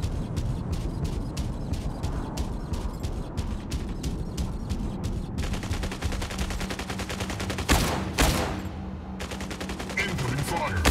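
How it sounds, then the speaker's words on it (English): Incoming enemy gunfire in a video game: rapid repeated shots crackling at first, then a dense automatic rattle with a couple of louder blasts near the end, over a constant game background. "Incoming fire."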